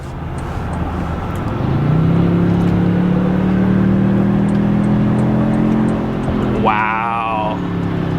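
A Toyota Tundra pickup with a 3.4-litre twin-turbo V6 accelerates hard from inside the cab, its engine note rising steadily for several seconds under a continuous road roar, then dropping as the next gear engages.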